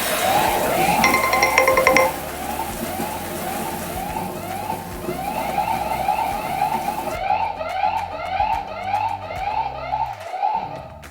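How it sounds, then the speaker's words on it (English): A smart thermostat's water-leak siren sounds as a steady, repeating electronic wail with a fast regular pulse, loud and close, running alone for the whole stretch. "the sirens will go off on the thermostat to alert"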